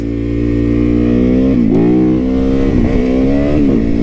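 A Japanese motorcycle engine idles close by with a deep throb, then revs up in a few quick blips that rise and fall.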